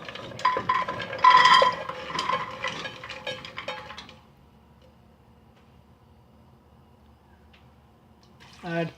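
Water pours into soaked kidney beans in a pressure cooker, a splashing, trickling stream for about four seconds, followed by near silence and a short clatter at the end.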